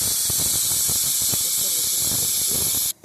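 A pressure cooker whistle lets off a steady, loud hiss of escaping steam while kali cooks, the steam sound holding strong almost all the way through before cutting off abruptly at the very end.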